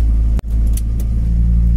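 Idling engine of a Fiat Marea Turbo, a steady low rumble with a constant hum that holds close and loud throughout, broken once by a very short dropout.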